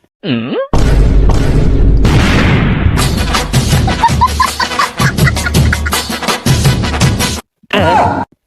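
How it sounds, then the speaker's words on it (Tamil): A loud, booming blast from a bomb planted in cow dung erupts and rumbles on with crackling, rattling debris, framed by brief swooping electronic tones before and after. "அந்த சாணியில ஆட்டோ பாம் வச்சேன், அது இப்ப வெடிக்க போகுது"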